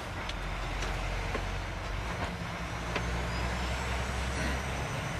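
A lorry with an automatic gearbox drives along in a steady, dense low rumble of engine and road noise heard from inside the cab, with faint clicks and rattles scattered throughout.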